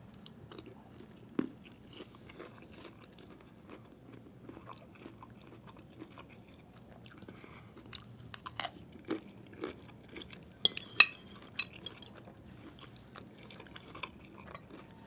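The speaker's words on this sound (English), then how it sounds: "listen to the crunch and the acne on this" Close crunchy bites and chewing of fried broccoli, scattered sharp crunches over quiet mouth noise, getting denser and louder toward the end.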